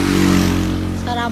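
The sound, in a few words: motorcycle passing by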